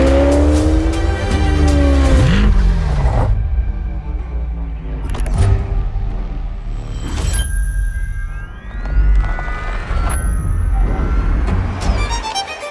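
A 2024 Chevrolet Corvette E-Ray hybrid supercar on a race track, loud engine revs and a rising whine swelling and fading as it passes, with tire squeal, all set under swelling music.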